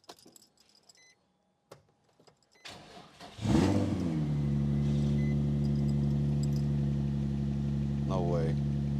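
A Nissan 350Z with newly replaced coil packs after a long misfire hunt cranks and fires up, then settles into a loud, steady idle with a brief rev, preceded by faint key jangles and a few quiet clicks.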